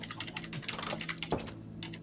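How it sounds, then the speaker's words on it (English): Steady typing on a computer keyboard, a close run of quick key clicks with irregular rhythm lasting throughout, no voices. "I'm gonna type something like being gonna be typing for a while"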